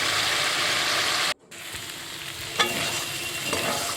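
Meat frying in a pan crackles with a steady, loud sizzle and stirring. Near the start a sharp cutoff and dip mark the moment water is added, after which the sizzle returns with brief bursts of spattering.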